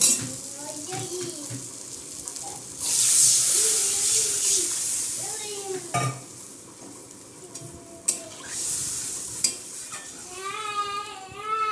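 Water is poured into a pan of potatoes fried with turmeric and salt, setting off a loud burst of hissing sizzle that settles to softer bubbling, while a person talks over it.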